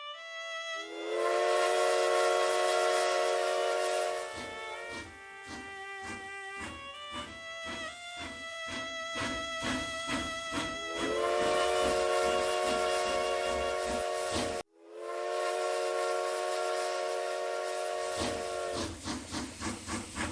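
A steam train lets out long, loud whistle blasts over hissing steam and a rapid rhythmic chuff of the engine, with the whistle returning after a brief cut.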